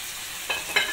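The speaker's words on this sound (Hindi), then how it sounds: "अब हम इसके अंदर अपनी कैप्सिकम डालेंगे।" Capsicum tossed into chicken already frying in oil in a pan, for a chicken lasagna. A soft, steady sizzle carries two brief louder scrapes or stirs close by over about a second, with no voices.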